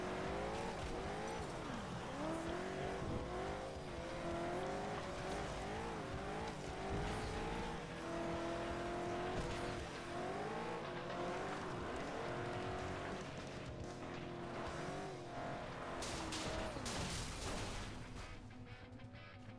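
Race cars roaring through the video game FlatOut 2, engines revving up and down through gear changes, with tire squeal and skids over a steady loud drone and no talk.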